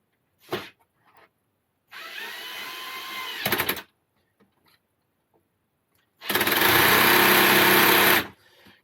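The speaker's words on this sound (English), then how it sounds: "For some reason, this twist bit is sticking." Power drill with a twist bit boring into an oak door, two sustained whining runs of about two seconds each separated by quiet, with small knocks and handling sounds between, close and alone.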